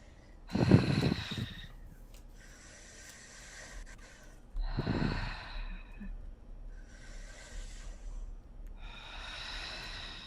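Slow, deep breaths during breathwork, taken close to the microphone: sharp nasal inhales followed by longer, softer airy exhales repeating in an unhurried rhythm.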